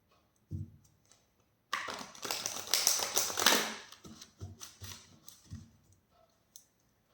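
Tarot cards being shuffled by hand, a riffling burst of dense papery clicks lasting about two seconds, followed by a few softer card taps and shuffles, close and fairly quiet with no talking.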